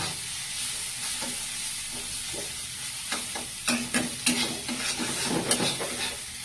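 Scrambled egg sizzles in a pan while being stirred, a steady hiss broken by repeated utensil scrapes and taps that grow busier toward the end.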